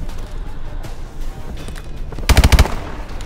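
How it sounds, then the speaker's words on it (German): Weapon fire in Call of Duty: Advanced Warfare, with scattered quieter shots giving way to a loud, rapid burst of four or five close gunshots near the end. "Hier auch nochmal einen schönen Headshot verteilt."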